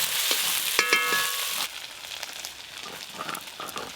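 Ginger, garlic and onion paste fries in a pan with a bright hiss that is loud at first, then drops to a softer sizzle with a few scattered crackles and stirring sounds.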